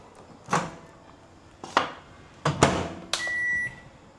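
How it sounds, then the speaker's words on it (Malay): A microwave oven reheating Samyang carbonara mac and cheese: a few close door and latch clunks, a quick cluster of beeps, then a steady hum as it starts running. "Saya nak panaskan terus dalam ni. Microwave."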